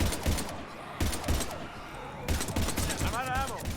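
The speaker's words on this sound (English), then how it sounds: "We're taking heavy fire." Heavy gunfire in the Mass Effect video game, bursts of rapid shots alternating with brief lulls, loud and close, mixed with game voices talking over the combat.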